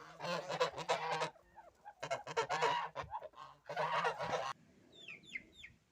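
Loud bursts of honking duck calls in three clusters, close by, with quieter chirping birds in the background after.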